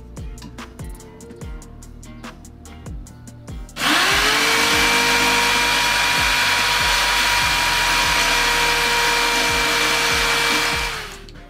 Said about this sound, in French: je vais pouvoir m'attaquer à la découpe de l'échelle